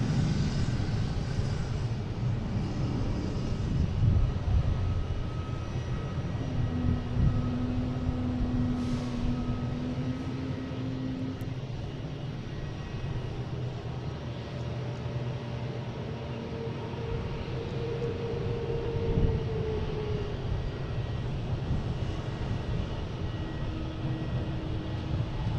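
An Airbus A319 jet airliner at Boston Logan International Airport produces a long, steady, distant roar that swells slightly and then holds for the whole stretch, with faint background hum and no talking.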